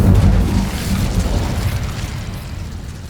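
In Hogwarts Legacy, the Incendio fire spell erupts in a loud, booming blast that rolls on as a roaring, crackling rumble and slowly fades over a few seconds.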